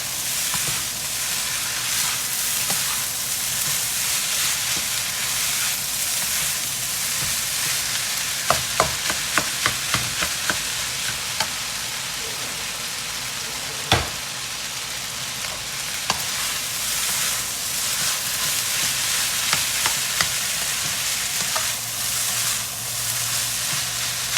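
Rice stir-frying with sauce in a hot pan, a loud continuous sizzle and hiss under bursts of sharp scraping and tapping as the clumps are broken up. No one talks.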